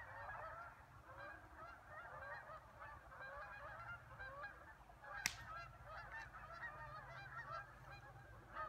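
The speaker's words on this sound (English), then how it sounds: "Sounds like there's another batch coming in from over here." A flock of Canada geese honking repeatedly in flight, many overlapping calls carrying steadily over outdoor ambience at a campsite, with one sharp click partway through.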